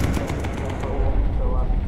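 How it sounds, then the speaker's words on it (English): Rapid machine gun fire from a bomber's gun turret in the video game Bomber Crew, a dense continuous rattle close up with game noise and a voice talking over it. "George is doing an excellent job shooting that"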